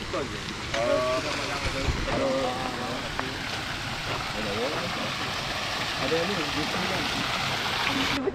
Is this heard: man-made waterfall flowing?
yes